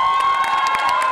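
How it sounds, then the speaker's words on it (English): Family members cheer and shout at a middle school concert after a duet, a steady, loud mix of voices and whoops filling the whole moment. "That's only his immediate family cheering,"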